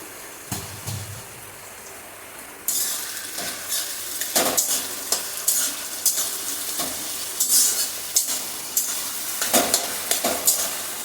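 Chopped tomatoes going into a hot frying pan for chicken dum biryani, a sizzle jumping louder as they hit the oil, followed by steady frying hiss with scraping stirs and utensil clinks against the pan.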